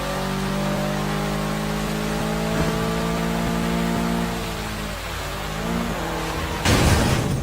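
A car engine in the video game Sleeping Dogs drones loudly and steadily, its pitch rising and dipping as it revs, ending in a sudden harsh burst.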